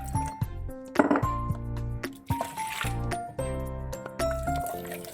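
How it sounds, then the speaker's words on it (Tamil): Water pours into a cooking pot of crushed grapes being made into jam, a close liquid splash with clinks of metal against the pot, over a steady low kitchen hum and some faint background sound. "தண்ணி விட்டுக்குவோம்."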